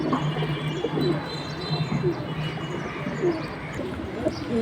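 Military pigeons at a market coo in a busy cluster, soft repeated throaty calls mixed with scattered chirps and background bustle, moderately close.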